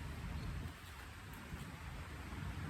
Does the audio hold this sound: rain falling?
yes